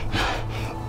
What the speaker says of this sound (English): Oh, God, she's breathing.